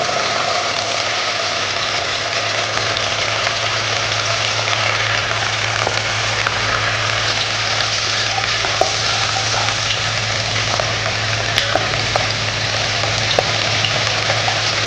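Ginger garlic paste frying in a pan for Madurai-style mutton uppu kari, giving a loud, even, continuous sizzle with scattered tiny crackles over a low steady hum, no voices.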